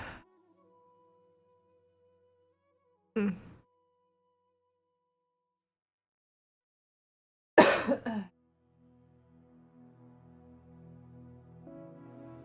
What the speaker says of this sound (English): Let the coughs come.